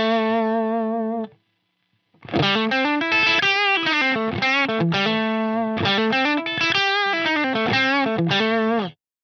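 An electric guitar played through a Line 6 Helix with the reverb mix at zero gives dry, distorted sustained notes. A short strum is followed by a pause, then a longer melodic run of loud, bright tones.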